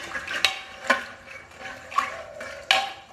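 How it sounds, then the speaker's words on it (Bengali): A spoon stirs peas with salt and turmeric in a pot for vegetarian ghugni, making four distinct scraping clinks against the metal at a slow, steady rhythm, close and clear with no talk. "একবার মিশিয়ে নেব।"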